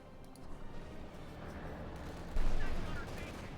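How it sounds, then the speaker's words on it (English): A Panzer IV tank gun fires in the World War II strategy game Company of Heroes 2, a single muffled boom rising out of a dense rumble of battle noise, with a voice talking over it. "Panzer IV shoots, misses,"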